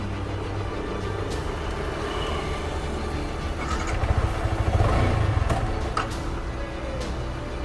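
A motorcycle engine runs steadily just after starting, a loud continuous low rumble with a brief swell in the middle, outdoors with no talk.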